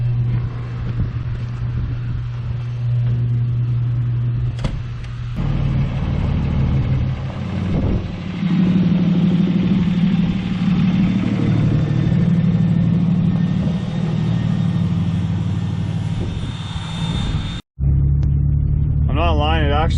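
Dodge Ram pickup truck with a steering box stabilizer out on a road drive, its engine a steady low rumble throughout with road noise inside the cab, shifting in pitch as it moves, and a brief dropout near the end.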